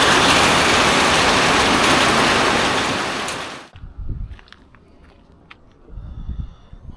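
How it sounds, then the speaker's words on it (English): Loud, dense tropical rain in Vietnam hisses steadily for a few seconds, then cuts off abruptly, leaving quieter rumbling and scattered thumps. "It's raining pretty heavy"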